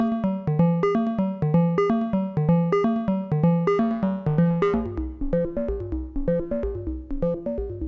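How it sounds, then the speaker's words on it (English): Moog Labyrinth synthesizer playing a ring-modulated sequence: a steady run of clear, bell-like metallic notes in a repeating pattern, rather loud and alone, turning thicker and more clangorous toward the end. "That's the ring modulation."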